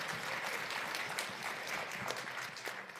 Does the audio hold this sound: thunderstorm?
no